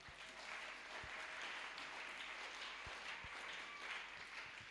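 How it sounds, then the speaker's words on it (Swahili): A church congregation claps together at a Sunday service, a faint, steady patter of many hands with a few sharper thumps and no speech. "Simpigie Yesu makofi"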